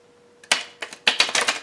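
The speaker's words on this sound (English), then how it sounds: "let's see if they rifle shuffle nicely" Crisp bursts of papery riffling, a rifle shuffle of a new tarot deck in a few quick flurries, close and fairly loud against a quiet room.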